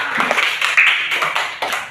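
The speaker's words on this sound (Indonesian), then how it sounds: "Mari kita tepuk tangan." A small group of people clapping in a classroom, an irregular patter of hands spread over a couple of seconds, fairly close and moderately loud with no one speaking.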